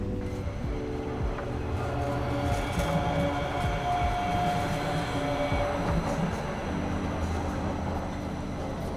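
A street tram rolls along rail tracks at Exchange Place with a continuous deep rumble and steel-wheel hum. The sound stays close and loud for the whole stretch, with no voices.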